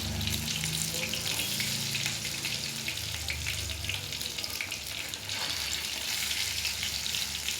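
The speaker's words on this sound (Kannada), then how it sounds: "ಎರಡು ಸೈಡು ಚೆನ್ನಾಗಿ ಫ್ರೈ ಮಾಡಬೇಕು. ಇವಾಗ ಇನ್ನೊಂದು ಕಡೆ ಟರ್ನ್ ಮಾಡೋಣ." Green masala fish frying in a pan with a steady, close sizzle of hot oil throughout, a brief rustle or stir partway, no voices.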